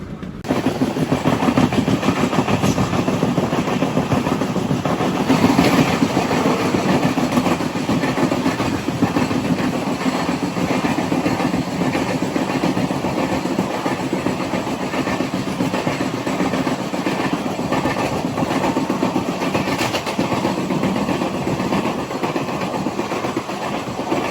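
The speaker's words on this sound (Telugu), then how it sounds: "క్రాస్ ఓవర్ అయింది కదా విశాఖ ఎక్స్ప్రెస్" The Visakha Express rolls past on the adjacent track near Visakhapatnam, a loud continuous roar of wheels and engine with faint clatter, heard close from inside a moving train.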